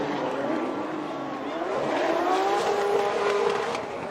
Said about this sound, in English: your defending champion, Fredric AASBO, in that Toyota GR Supra